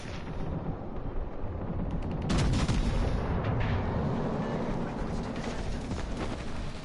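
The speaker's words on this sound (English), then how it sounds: "Concentrate fire on the enemy warship." Warship guns fire in World of Warships Legends on PS4, a dense, continuous roar of heavy booming salvos rumbling and swelling through the whole stretch, with no clear gaps between shots.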